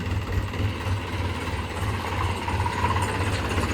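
A tractor engine idling nearby, a steady low throbbing rumble with even pulsing that runs unbroken from start to finish, fairly loud and without speech.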